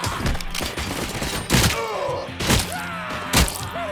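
Gunfire in the video game RoboCop: Rogue City, a loud burst of shots followed by three heavy separate blasts spaced about a second apart, with groaning and metallic game sounds between them.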